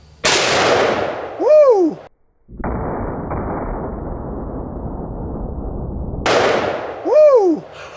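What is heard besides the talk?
454 Casull and 460 Smith & Wesson Magnum revolver shots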